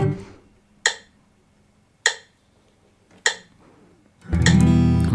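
Guitar chords are strummed in a beginner-like way, with three short, separated strums and pauses between them while fingers fumble, then a fuller ringing chord at the end, close and moderately loud.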